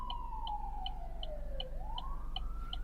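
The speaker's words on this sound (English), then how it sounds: "I hear a siren." An ambulance siren wails, sweeping down then rising again, moderately distant, over a low steady rumble with faint periodic chirps, in downtown Los Angeles.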